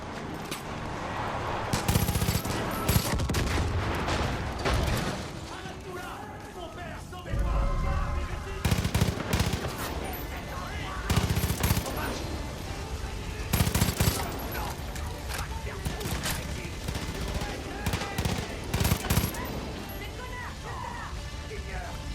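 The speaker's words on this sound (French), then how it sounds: "Seigneur, des tirs." Rapid automatic gunfire bursts loudly in a Far Cry 5 firefight in Holland Valley, repeated volleys with crashes and mechanical clatter over a dense, continuous background.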